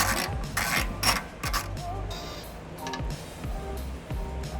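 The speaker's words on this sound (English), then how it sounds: "removing 3 12mm bolts here, or nuts, using a 12mm socket and ratchet" A 12mm socket and ratchet loosen exhaust hanger nuts on a 2002 Nissan Altima, giving close, repeated bursts of ratchet clicks with brief pauses between strokes.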